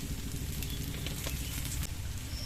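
Pieces fried in oil until reddish, pumpkin and shrimp for a Bengali dish, give off a steady, close, moderately loud sizzle and crackle that runs unbroken throughout with no talk.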